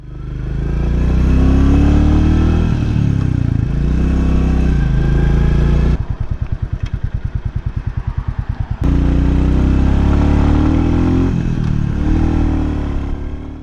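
A Royal Enfield Classic 350cc single-cylinder air and oil cooled engine revs loudly, then drops to a distinct rhythmic low thumping idle pulse before revving up again.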